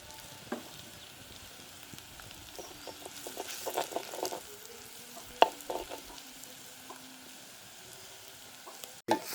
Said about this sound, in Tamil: கொஞ்சம் கொஞ்சமாக விட்டு வறுக்க போகிறோம்.